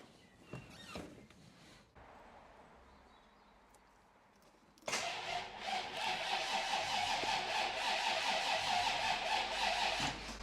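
A scrapped Bentley T MPW Convertible engine cranks over, quiet clicks giving way to a loud, sustained churning turn-over that runs steadily to the end with no voices.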